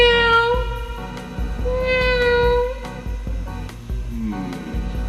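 A person imitates a cat, voicing two drawn-out, rising meows in quick succession, loud and close, over a busy background of music and studio noise on a space-themed children's show.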